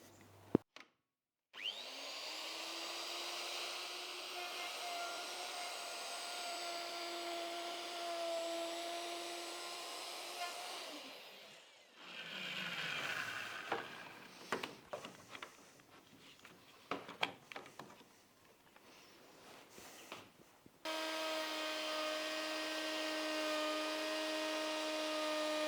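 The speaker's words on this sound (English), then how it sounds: "So this router, I'm only just guiding it." A wood router guided by hand cuts a long scarf joint in boat-building timber, a steady high whine under load broken by a quieter stretch of rough cutting noise before the motor resumes at full pitch.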